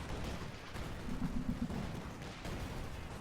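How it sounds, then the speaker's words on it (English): Mortar carriage firing in Company of Heroes 2 amid sustained battle noise, with a few dull booms and a rumbling wash of distant combat, mid-loud throughout. "So yeah, mortar carriage getting another nice hit."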